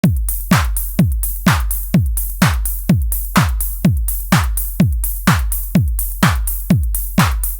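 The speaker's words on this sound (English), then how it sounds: "let's check out the classical house beat" A steady four-on-the-floor house drum beat on a Nord Drum 3P with punchy kicks, a clap on the backbeat and crisp hi-hats, looping evenly at full volume with no voices.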